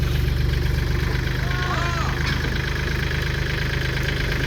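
A Mercedes-Benz car engine hums steadily and evenly while the car is driven, close and moderately loud. Someone talks over it.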